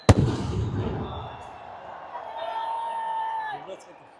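Firecrackers bursting at a cricket stadium ceremony in Peshawar, one sharp loud bang at the start followed by a sustained crackling and whistling wash under crowd noise and a faint speaking voice.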